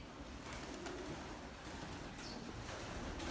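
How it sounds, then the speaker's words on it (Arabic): Pigeons coo faintly inside a racing pigeon breeding loft belonging to a German racing pigeon champion, a soft, steady background murmur with no voices. "هنا يتواجد الحمام."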